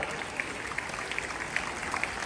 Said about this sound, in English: A big hand clap for such people.